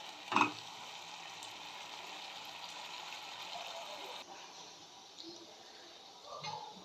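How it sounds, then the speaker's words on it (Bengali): Masala with tomato paste sautéing in a pan, a steady soft sizzle running throughout with a brief louder clatter near the start and faint stirring scrapes later. "এখন একটু ভালো করে কষে নেব মশলাটা।"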